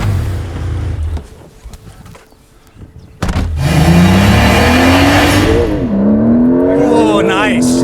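Porsche 911 Turbo S accelerating hard from inside the cabin, the engine note climbing through gear shifts after a quieter idle stretch, loud and close, with faint voices.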